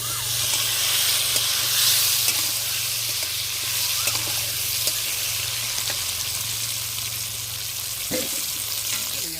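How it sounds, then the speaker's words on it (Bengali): Pointed gourd (potol) frying in oil in a pan in a village-style kitchen, a steady close sizzle and hiss that carries on throughout, with a few faint clinks of stirring and no talk. "পটল হালকা ভাজা হয়ে গেছে এবার তুলে নেব"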